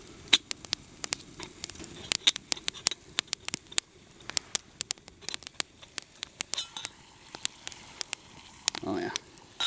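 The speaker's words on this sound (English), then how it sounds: "sounds like she's coming to a boil." Water comes to a boil in a pot set over a campfire, faint crackles and sharp popping ticks scattered irregularly over a soft bubbling hiss, fairly quiet and close.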